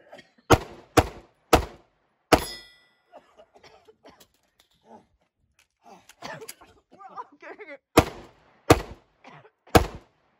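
Byrna kinetic pepper-ball rounds fired in a live-fire defense drill, bursting against a wall: several loud, sharp cracks in two clusters, with quieter voices and handling sounds between them.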